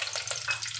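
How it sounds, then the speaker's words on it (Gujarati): Curry leaves spluttering in hot oil for a spiced puffed-rice snack, a close, steady crackling sizzle with a few brighter pops over a low hum. "હવે આપણે એમાં નાખીશું કરી પત્તા, જે આ રીતે તતડી જવા જોઈએ."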